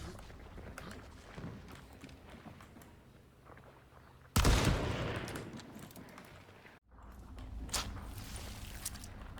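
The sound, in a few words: players' footsteps running in Hunt: Showdown video game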